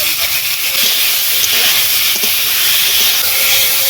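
Chopped pineapple hits hot oil tempered with bay leaf, whole dried chillies, panch phoron and mustard seeds, giving a loud, steady, hissing sizzle up close that runs throughout.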